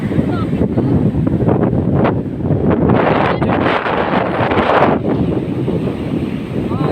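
Rough ocean waves surge and crash on the sea at Infanta, Quezon in December, amid strong gusts of wind buffeting the microphone, loud and continuous.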